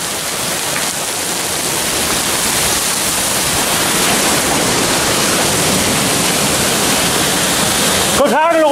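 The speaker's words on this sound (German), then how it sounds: "Es hagelt! Es hagelt!" Hail rattles down during a thunderstorm, forming a loud, continuous dense hiss and clatter that holds steady throughout, ending with a brief sharp sound near the finish.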